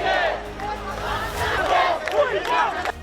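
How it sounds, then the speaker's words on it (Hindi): A crowd storms the Prime Minister's residence in Dhaka, a mass of shouting, chanting voices rising and falling together, loud and close throughout. "शेख हसीना के देश छोड़ते ही भीड़ ने प्रधानमंत्री आवास पर धावा बोल दिया।"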